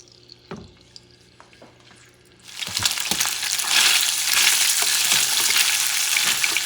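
Salt cod sizzles in a hot pan after a few quiet clinks and taps, then breaks into a loud, steady frying hiss while it is stirred and broken apart.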